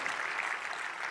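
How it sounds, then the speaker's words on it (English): A short burst of audience applause at a summit plenary session, dense clapping without voices. "a big round of applause to you, sir"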